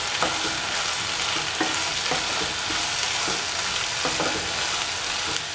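Green chili and taro root are stirred and fried in a pan, a loud steady sizzle broken by several scraping spoon strokes at an irregular pace.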